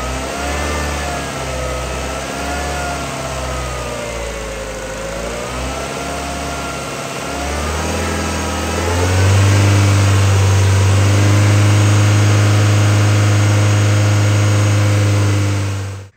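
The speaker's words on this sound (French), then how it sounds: "je vais essayer à 2000 tours et à 3000 tours" A car engine under repair is run up to 2000 and then 3000 rpm. First comes a loud, pulsing mid-range engine note, then a rise into a steady, higher, sustained drone held close to the microphone.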